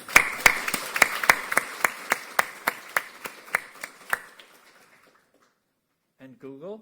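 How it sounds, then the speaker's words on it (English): At the ASSETS'22 opening plenary in Athens, Greece, the audience claps for a conference sponsor in a steady, evenly spaced rhythm that fades out after about four seconds, followed by silence and then a brief voice. "Let's first start by applauding Fable,"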